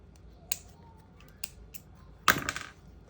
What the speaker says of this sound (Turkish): ilmeklerin arasında ipimi yürütüyorum birkaç kez ve kesiyorum